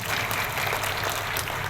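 Church congregation claps together during a New Year sermon, a full, sustained round of applause from many hands, loud and close throughout.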